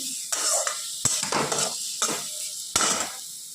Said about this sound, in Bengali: এখন আলুটা কষিয়ে নিচ্ছি